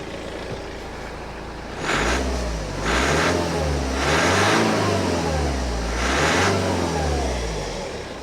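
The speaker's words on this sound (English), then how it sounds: "if I just give the car a little rev now, see, it's pretty bad." A BMW E93 convertible with a smoking fault and a dashboard error is revved in about four rising, close bursts, each surge climbing in pitch then falling back to a rough idle between them.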